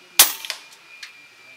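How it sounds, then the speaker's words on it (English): A single sharp shot from a Steyr air rifle firing JSB Hades pellets outdoors, loud and close with a short crack, followed by a couple of fainter ticks and a distant faint impact. "So a couple of shots at the shooting seat, check my range."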